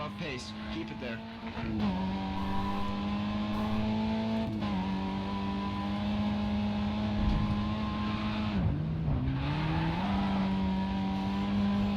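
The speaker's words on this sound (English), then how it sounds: "This almost kind of sounds like an engine note that you might hear in, like, Need for Speed Underground" A race car engine in Grid 2 revs steadily and loudly, its note climbing and dropping with several gear shifts, while a person talks over it throughout.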